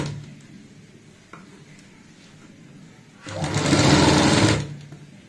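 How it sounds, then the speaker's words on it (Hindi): A sewing machine stitches piping onto a kurti neckline: after some quiet handling noise, the motor runs in a loud, steady whir of rapid stitching for just over a second, then stops. "पाइपिंग के साथ साथ सिलाई लगा लेंगे।"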